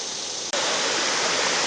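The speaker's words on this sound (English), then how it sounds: "This is a complete waterfall" A waterfall on a creek in Alabama rushes in a steady, loud broadband roar that sounds close by and continues without pause after a brief cut.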